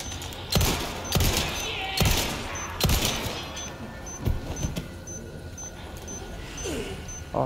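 Gunfire in the Resident Evil 4 Remake video game on PC: repeated loud, close gunshots at uneven intervals over a busy game soundscape with a steady high electronic tone pulsing in the background.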